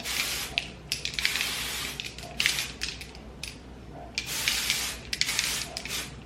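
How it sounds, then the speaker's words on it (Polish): Kevin Murphy Bedroom hairspray hisses out in repeated close bursts of varying length, broken by short pauses, clicks and rustles as hair is set. "utrwalam takim sprayem z Kevina Murphy, to jest Bedroom"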